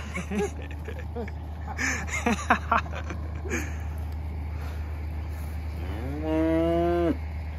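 Loose cows moo loudly nearby, several lowing calls early on and one long drawn-out moo near the end, over a steady low rumble.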